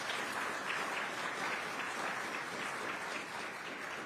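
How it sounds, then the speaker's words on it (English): Audience applause for state legislators at an Oklahoma Route 66 centennial kickoff event: a steady, continuous wash of clapping from a sizable crowd, moderately distant and without talk. "These legislators deserve a round of applause for that type of commitment."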